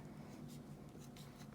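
A pen scratches out a short written label on paper during a science lesson, a few quick, faint strokes over a low steady room hum.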